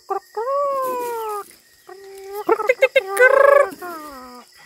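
Nearby chickens call out in drawn-out, wavering squawks, several in a row, with a cluster of rapid clucks in between.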